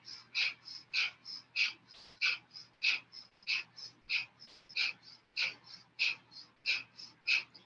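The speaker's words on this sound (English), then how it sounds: "feel your navel pumping as you're vigorously breathing through breath of fire" Rapid, forceful rhythmic breaths of Kundalini yoga breath of fire, sharp nasal pumping exhalations repeating steadily about three per second, close and crisp with no speech.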